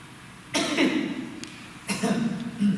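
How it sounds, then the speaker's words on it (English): A man coughs in two or three short, rough bursts at close range, separated by quiet pauses, over a faint background hiss. "He's just got a cough there, yeah?"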